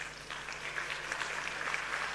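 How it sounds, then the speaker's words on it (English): Faint, thin applause from an anniversary event audience welcoming a chief, soft scattered clapping at a distance with a low steady hum beneath. "Can we just welcome him with a nice round of applause"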